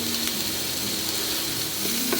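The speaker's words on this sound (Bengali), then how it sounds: "একটু নুন দিয়ে দিলাম আলু ভাজাতে।" Potatoes frying with a pinch of salt in a wok for a vegetarian banana stem curry, giving a steady close sizzle throughout with faint scraping touches and no talking.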